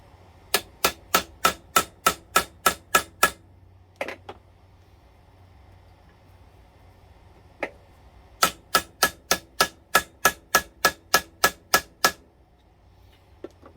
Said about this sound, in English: it's got this metal part on the back there so you can hit it with a hammer